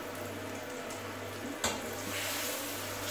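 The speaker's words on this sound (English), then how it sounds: "Stir it up." Scrambled eggs sizzling in a frying pan as they are stirred, a steady frying hiss with a low hum and one brief scrape of the utensil against the pan.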